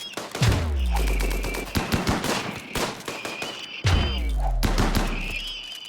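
Gunfire volley in the video game RimWorld: dense bursts of rapid shots with deep booming impacts, two heavy waves a few seconds apart, loud and continuous, with no voices.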